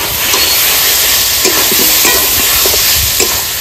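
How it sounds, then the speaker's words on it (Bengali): Potatoes are sautéed with a spice paste of turmeric, salt and Kashmiri chilli in a pan, giving a steady loud sizzle. Occasional scrapes and stirring knocks sound under it, and no voices are heard. "মশলার সঙ্গে আলু ভালো করে কষিয়ে নিয়েছি"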